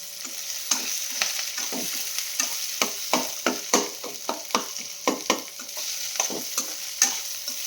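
Chillies with onion and garlic paste fry in a pan for benne dosa, a steady hiss broken by regular scraping clicks of stirring, close and fairly loud with no voices.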